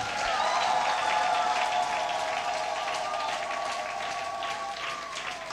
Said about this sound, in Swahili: Mpe Yesu makofi mazuri kabisa.